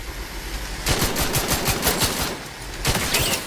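Rapid turret gunfire in the video game The Outer Worlds 2, two close, loud bursts of evenly spaced shots with a short pause between them.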